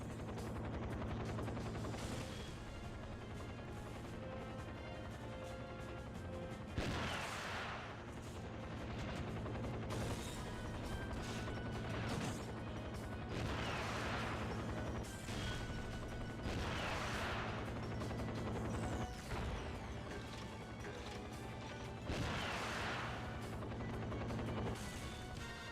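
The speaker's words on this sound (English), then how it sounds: "Luckily I got a guided rocket launcher here." Game combat in 007 Nightfire: a helicopter's steady rotor drone runs throughout while a guided rocket launcher fires at it, with repeated sharp blasts and explosive bursts over the continuous engine hum.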